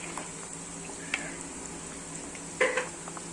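Kalanchi fish curry stirred in a pan over a low simmer, with soft bubbling and a couple of brief scraping clinks from the spoon near the end.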